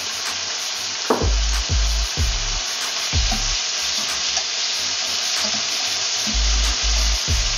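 Onion and tomato sautéing in a pan for a Filipino octopus adobo stew, a steady close sizzle broken by several scraping stirs of the spoon against the pan, with no talking.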